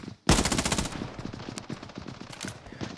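Automatic gunfire in the battle royale video game ScarFall 2.0: a loud opening shot followed by a rapid, evenly spaced burst of machine-gun rounds that continues for a few seconds.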